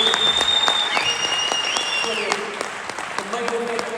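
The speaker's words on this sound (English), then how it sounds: "let's get a round of applause for these guys" Applause rises for boxers Anto Cacace and Leigh Wood at a Nottingham press conference, a room of hands clapping steadily and fairly close while electronic tones and voices sound over it.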